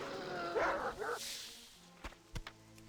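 Dogs in World of Warcraft give a few short, moderately loud barks early on, followed by a couple of sharp clicks against a low game background.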